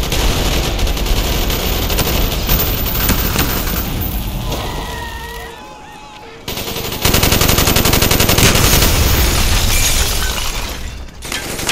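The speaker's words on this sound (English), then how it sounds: "Bowman, Carlos, lay down covering fire." Relentless rapid gunfire and shattering crashes fill a video game street battle in Cuba, covering fire blasting close and loud with a brief lull before the barrage resumes.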